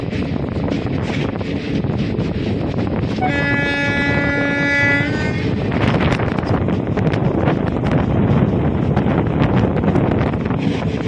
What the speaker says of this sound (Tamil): திருச்செந்தூர் எக்ஸ்பிரஸ் திருநெல்வேலி ஸ்டேஷன் விட்டு டிபார்ட் ஆகி வெளியே போய்கிட்டு இருக்கு பிளாட்ஃபார்ம் விட்டு.